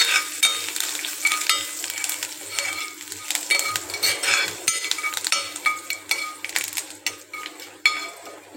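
Asafoetida and curry leaves fry in a pan for ponaganti kura, crackling pops and spits over a thin sizzle, mixed with repeated clinks and scrapes of a spoon against the pan, close and without talk.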